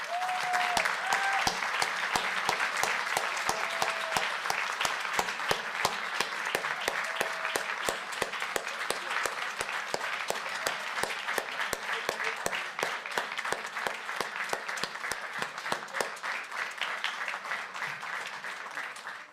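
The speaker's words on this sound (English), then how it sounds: "Let's give her a round of applause." Audience applause in a Torrance city council chamber, steady and full for nearly twenty seconds, dense clapping that thins slightly toward the end, with a few faint voices and whistles mixed in early.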